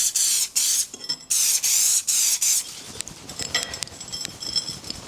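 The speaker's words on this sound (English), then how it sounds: "spray the detector on" An aerosol can of crack detector sprays onto steam engine eccentric parts in several short hissing bursts, then faint rattling and tapping follow as the spraying stops.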